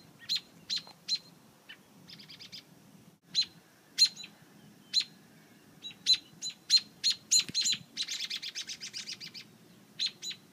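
Birds chirping in short, sharp bursts from close by, with single calls spaced out early and then a quick rapid run of tweets near the end over a low background rumble.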